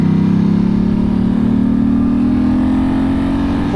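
2008 Ducati S2R1000 Monster on the road: a loud, steady engine drone under way, throttle held nearly constant with pitch rising slightly, close and continuous throughout.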